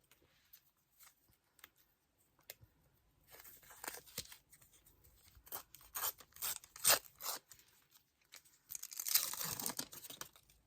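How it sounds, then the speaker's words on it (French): Panini Disney sticker packets being torn open, quiet rustling and crinkling of foil wrappers in irregular bursts, getting busier and louder toward the end, close and without talk. "je vais déjà ouvrir les trois pochettes"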